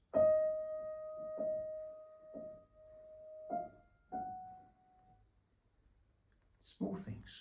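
A single piano note repeats several times, each strike decaying, then a slightly higher note; near the end a voice briefly begins speaking.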